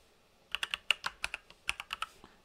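Fingers type code on a computer keyboard in a quick burst of about a dozen crisp, close key clicks, with a brief pause midway and no talking.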